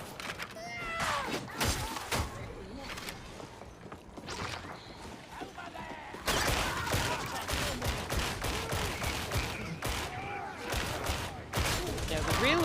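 Repeated booming shotgun blasts from a 1-gauge shotgun in the video game Darktide, loud and close, mixed with other gunfire, clanking mechanisms and game noise, with people talking over the action.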